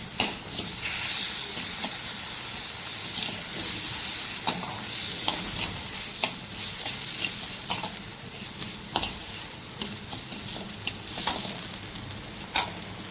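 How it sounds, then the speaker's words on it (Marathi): Bhagar (barnyard millet) sautéing in a pan with tomatoes and potatoes for upma: steady loud sizzling hiss throughout with frequent spatula scrapes and stirring knocks, no talking. "आता त्याच्यात हे टोमॅटो आणि बटाट टाकून घेऊ. त्यांना पण थोडं परतवून घ्यायचं आहे."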